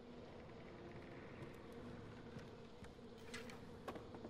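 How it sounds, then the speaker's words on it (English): A nest of bees in the video game Far Cry 4 gives off a faint, continuous droning buzz in a quiet game scene. "If a nest of bees can kill two guards, fairly certain they can do quite a bit of damage to me."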